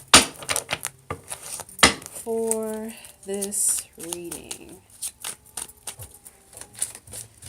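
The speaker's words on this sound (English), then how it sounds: "I'm probably just going to shuffle it and see what cards come out for me." Close, crisp papery clicks and riffles of tarot cards being shuffled, in quick irregular bursts, with a voice speaking briefly.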